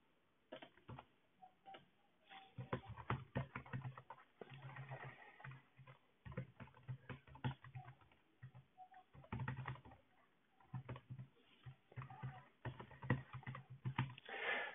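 Keys clatter on a computer keyboard as a name, URL, username and password are typed, quick irregular bursts of close clicking with brief pauses and no speech, over a narrow, muffled recording.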